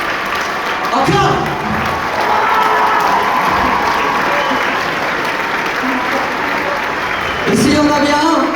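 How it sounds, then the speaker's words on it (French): A packed Grand Rex audience claps and cheers continuously, with loud surges at the start and near the end, and a voice briefly heard over the crowd. "faites-leur un tonnerre d'applaudissements en cœur"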